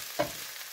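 Onions browning in a pan for an onion tart, a steady soft hiss of frying with one brief scrape of stirring near the start, close and alone.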